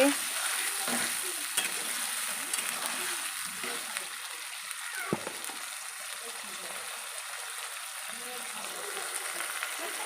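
Spices frying in a home-cooking pan for a vegetarian meal, a steady bright sizzle running throughout with occasional stirring clicks and a single sharper tap, moderately faint and without speech.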